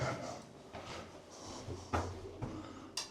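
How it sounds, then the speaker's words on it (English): Lift doors in a 1950s green-tiled lift shaft slide shut, with a few dull knocks and clunks over a low mechanical hum, fairly close and with no talking. "Doors closing."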